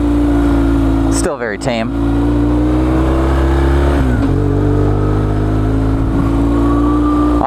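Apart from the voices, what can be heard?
BMW R1150 GS motorcycle riding on gravel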